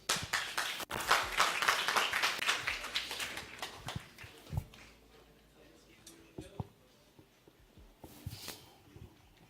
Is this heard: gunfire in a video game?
no